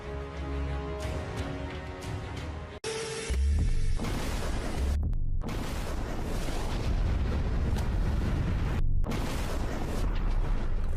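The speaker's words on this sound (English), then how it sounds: "causing the entire vehicle to explode like fireworks" A Russian armored vehicle fully loaded with ammunition explodes like fireworks: a loud, sustained roar of blasts and crackling bursts that fills the whole stretch, broken by a few brief drops.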